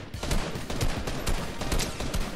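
Rapid gunfire in Fortnite ranked OG gameplay, a dense fusillade of repeated shots and impacts filling the short stretch, loud and continuous with no talk.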